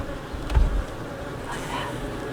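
Honeybees hum steadily around an open hive as the frames are handled, a soft continuous buzz close by with a brief low thump near the start.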